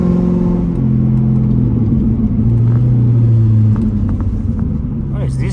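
Corvette engine rumbling steadily while driving on a late-night road, a continuous loud low drone with shifting pitch as it accelerates, heard from inside the car.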